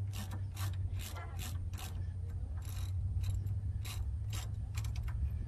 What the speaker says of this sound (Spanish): ahora sí le podemos dar con la racha